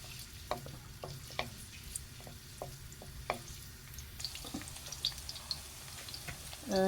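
Turmeric-and-salt marinated chicken frying in a pan, a low steady sizzle broken by light scraping and tapping of a stirring utensil, fairly faint.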